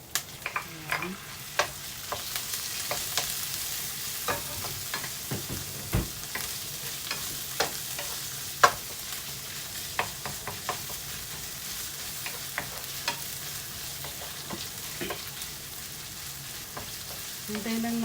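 Ground pork frying in a pan for ginisang togue, with a steady sizzle and repeated scraping clicks of a utensil stirring the meat, close and fairly quiet.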